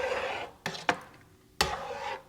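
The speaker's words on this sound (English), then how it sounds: "Give it a nice stir." Corn chowder stirred back into its pot after part of the soup is pureed, with a few scraping, swishing spoon strokes close by, separated by short quiet gaps.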